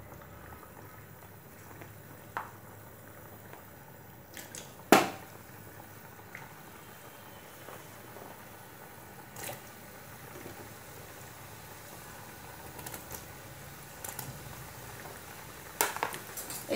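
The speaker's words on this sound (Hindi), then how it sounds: "अभी ऑयल में छोड़ देती हूँ फ्राई होने के लिए" Shankarpali dough pieces fry in hot oil in a kadhai, giving a faint, steady sizzle with a few sharp clicks and spatters.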